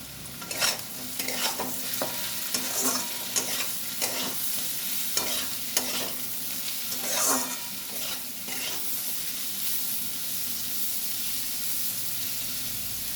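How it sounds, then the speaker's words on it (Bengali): Sliced snake gourd frying in hot oil with turmeric, chili powder and salt, a steady close sizzle broken by repeated scraping stirs of a spatula through the pan, with no talking. "হলুদ সামান্য একটু লঙ্কার গুঁড়ো প্রয়োজন মতো নুন দিয়ে এটা ভালো করে ভাজবো"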